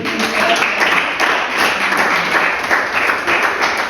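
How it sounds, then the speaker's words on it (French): A church congregation applauding during a French sermon, a dense continuous wash of clapping filling the room, loud and sustained with no voices standing out. "Allez, applaudissons pour Jésus."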